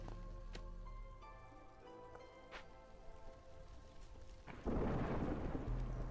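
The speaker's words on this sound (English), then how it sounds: "Oh, the storm is coming." A thunderstorm in the video game Against the Storm: distant rumbling thunder and rain under a steady backdrop, swelling into a loud, dense downpour for the final seconds.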